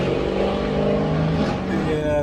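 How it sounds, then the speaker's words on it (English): A Chevrolet Camaro with a new exhaust passes by close and loud, its engine rumbling and revving briefly as it goes, with a voice speaking over it. "that's a Camaro. He must have just got a new exhaust"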